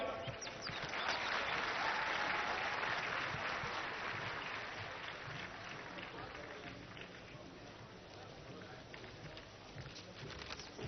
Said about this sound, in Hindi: एक बार फिर से जोरदार तालियों से अपने साथियों का धन्यवाद करें